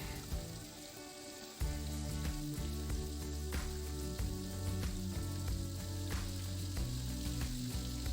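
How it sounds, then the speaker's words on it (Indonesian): Catfish sizzles and crackles steadily in hot oil, battered in flour, the frying growing louder after a moment and continuing evenly throughout. "minyak yang kita gunakan untuk menggoreng lele ini tidak meletup sama sekali seperti"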